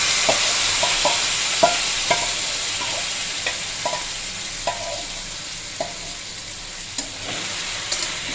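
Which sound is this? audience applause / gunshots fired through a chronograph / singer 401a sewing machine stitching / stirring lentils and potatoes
stirring lentils and potatoes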